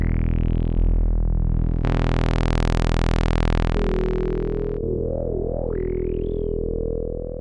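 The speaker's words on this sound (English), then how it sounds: "it's the sound of someone manipulating a synthesizer" A synthesizer drone is manipulated with sweeping filters, jumping between bright and dark timbres, with wobbling pitch bends and rising swooshes, loud, sustained and alone.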